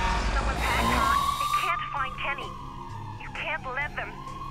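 Fire truck siren in the Watch Dogs video game, a rising and steady wail running under close talking and driving game sounds.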